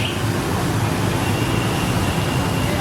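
Steady, dense roar of Hanoi street traffic with a constant engine drone and broadband hiss, many small motor scooters blending into one continuous wash, no voices.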